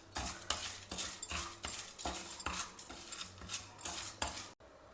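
Urad dal fries in oil in a pan, with rhythmic clinks and scrapes of a spoon stirring against the metal repeating every half second or so, close and fairly quiet.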